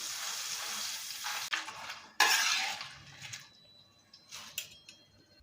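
Banana slices frying in coconut oil: a broad hissing sizzle that fades, broken by a sudden louder splash of crackling partway through, then quieter bubbling with a few light clinks.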